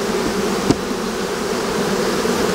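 Honeybees drone loudly and continuously at an apiary hive during a honey harvest as mature honey is taken from the colonies, a dense close buzz with one brief knock partway through.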